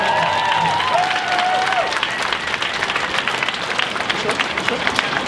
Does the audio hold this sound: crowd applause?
yes